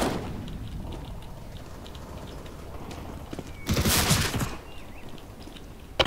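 Rapid gunfire bursts in Counter-Strike: Global Offensive, a dense crackle of shots running steadily under game noise, with a louder, fuller volley near the middle before it thins out again.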